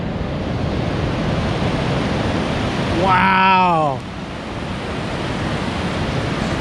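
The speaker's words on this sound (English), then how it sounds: "Look at all these huge waves out here." Huge ocean waves break on the beach at Cape Lookout State Park on the Oregon coast, a steady roaring wash of surf with wind on the microphone, while one voice briefly exclaims.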